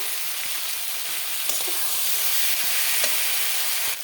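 A spice paste of ground spices, a little water and ginger paste sautéed in a pan for a mixed vegetable curry gives a loud, steady sizzle, with a few soft stirring knocks.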